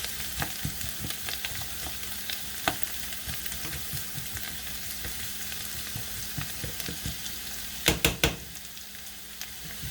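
Onions fry in an open pan, hissing and sizzling steadily up close, with a few sharp utensil clicks and stirring taps near the end and no talking.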